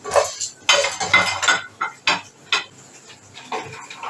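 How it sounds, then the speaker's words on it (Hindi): Peanuts being stirred in a hot pan with the heat off, along with roasted chickpeas, give a rattling, scraping clatter of a spoon against metal, with repeated close strokes and no talk. "सिर्फ गरम बर्तन में इसको मैं थोड़ा सा हिला रही हूँ।"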